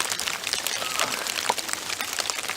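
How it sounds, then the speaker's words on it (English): Hard rain pours outdoors at a bushcraft camp with an improvised tarp lean-to, a dense, steady hiss of drops pattering all around and nearby. "raining hard enough off and on now."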